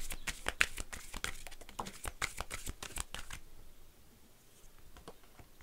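Oracle cards being shuffled by hand for a triad reading: a quick run of crisp riffling flicks and slaps, close and fairly quiet, stopping partway through to leave near silence.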